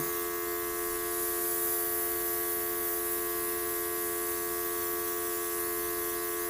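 A Luminess Legend airbrush sprays foundation in a steady, unbroken hiss with a constant tonal hum from the compressor running underneath, close and even throughout, with no talking.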